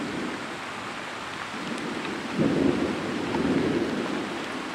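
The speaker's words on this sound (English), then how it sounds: "Just when I thought that the rain had stopped, it started pouring down even harder" A thunderstorm on a farm with heavy rain pouring down, a steady broadband wash of rain joined by low rolling thunder that swells partway through and rumbles on.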